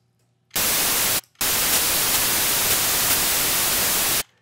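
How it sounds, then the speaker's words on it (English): Steady full-spectrum white noise from a Citrus synthesizer on its white noise setting, loud and constant, cutting out briefly after the first second before resuming and stopping abruptly. "so I'll set Citrus here to its white noise setting so that we have all the"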